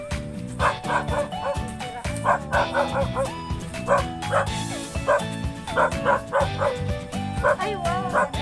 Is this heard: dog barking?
yes